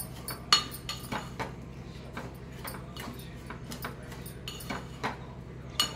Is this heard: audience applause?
no